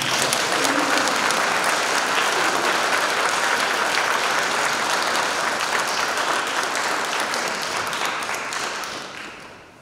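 Sustained applause from an audience in a hall, dense and even clapping that holds steady for several seconds before fading out at the end.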